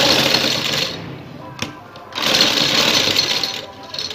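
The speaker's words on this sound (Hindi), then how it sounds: "अब गले की जो ये वाली साइड है उसे सिलाई लगाना शुरू करेंगे हम अंदर वाली साइड पे" A sewing machine stitching along the inner edge of a garment neckline runs in two loud continuous bursts, separated by a brief pause and a click.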